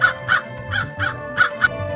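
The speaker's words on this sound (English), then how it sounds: "a very thirsty crow was flying around looking for water" A crow caws six times in quick, evenly spaced calls, loud and close with nothing behind them, used as a story sound effect.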